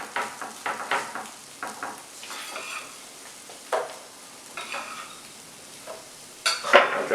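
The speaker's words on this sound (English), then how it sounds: "gonna drop my vegetables in here. We're gonna get those to sauteing." Vegetables for a shrimp and sausage dish saute in a pan, a soft sizzle broken by repeated scraping stirs and light utensil knocks at an irregular rhythm, heard close up.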